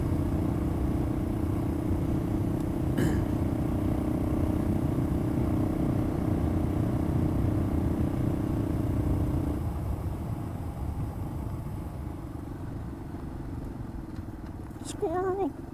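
A Yamaha XT225 dual-sport motorcycle rides a rough public dirt road, its engine holding a steady close drone that eases off partway through, with a voice speaking briefly near the end.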